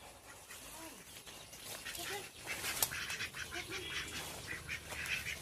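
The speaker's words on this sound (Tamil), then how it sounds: "வாத்துக்கிட்ட இங்கே இருக்கு." A few ducks quack in short, faint bursts outdoors, loosely scattered over a soft, noisy background.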